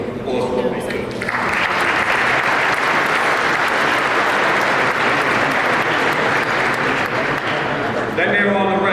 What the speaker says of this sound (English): they deserve a round of applause for what they do